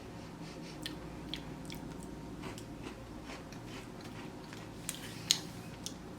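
Soft, close chewing on a melon-flavored Japanese cookie, with faint irregular crunches and mouth clicks repeating over several seconds, no talking.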